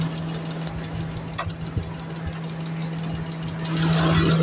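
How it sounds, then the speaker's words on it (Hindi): A car engine idles with the hood open, giving a close, steady hum with a constant low tone, light knocking ticks and a slight swell in loudness near the end. "بالکل سن ہو گیا انجن. اس کی یہاں کہیں سے آواز آ رہی ہے."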